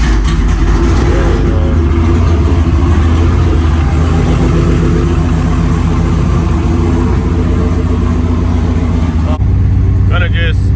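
A 2005 GMC truck fitted with a single turbo runs loud and close, its engine a heavy, steady rumble with some uneven revving for most of the clip; it drops off near the end, when a short high whistling tone comes through.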